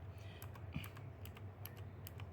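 Quiet typing close by on a lightweight Cosmic Byte CB GK 21 Themis 60% mechanical keyboard, not very clicky, a string of soft clacking keystrokes at an uneven pace over a low background hum.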